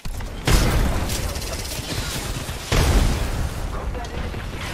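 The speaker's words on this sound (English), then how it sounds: "Grenade." A grenade goes off in a video game shooter, two loud booming blasts about two seconds apart over continuous dense crackling gunfire and battle noise.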